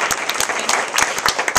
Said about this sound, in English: Give Shannon a round of applause for being great.